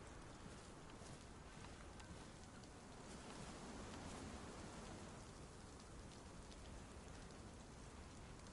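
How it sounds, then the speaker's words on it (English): Dense, constant rain hiss in the video game DayZ (Livonia map), even and unbroken throughout, like a heavy downpour heard at moderate distance. "Also, now it's raining."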